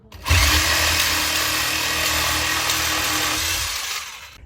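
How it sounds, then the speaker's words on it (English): A jigsaw cuts pallet wood in one continuous, loud, close buzzing pass lasting a few seconds, then winds down. "it's cleaned up using this here jigsaw"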